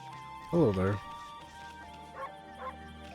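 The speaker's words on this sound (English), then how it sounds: "What's a dog doing here?" A dog in Okami HD gives one loud, close bark, followed by two fainter, shorter yips a moment later.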